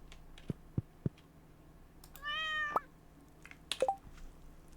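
Cartoon cat meow from a farming sim game in the Meadowlands, a rising tonal call in the middle among soft clicks and small effect sounds, fairly quiet, no talking.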